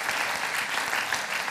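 Audience applause at an evening lecture event, a dense, even wash of many hands clapping, fairly distant and moderately soft, continuing steadily without speech.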